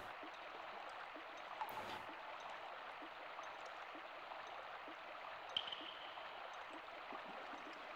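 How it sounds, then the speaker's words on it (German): Water flows steadily through a tower in the video game Grandia, a constant soft rushing stream with a few faint clicks on top and no voices. "Ich höre Wasser."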